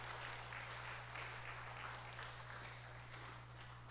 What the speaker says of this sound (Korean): 다시 한번 뜨거운 박수 보내도록 하겠습니다